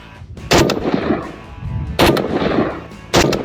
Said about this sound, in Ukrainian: Ще один сет по 4 постріли.